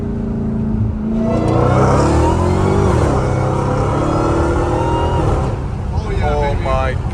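A Dodge Hellcat Redeye running without catalytic converters, fitted with a 3-inch catback exhaust and 5-inch tips, revs loudly and close up, its deep roar rising and falling, with a voice briefly heard near the end.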